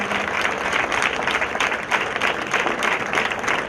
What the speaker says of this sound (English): Ladies and gentlemen, please give Sarvesh a big round of applause.